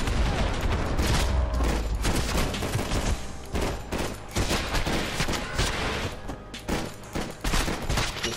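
Gunfire in the video game Max Payne 3: dense, continuous bursts of loud shots and booms with almost no gaps, layered over one another in a heavy firefight.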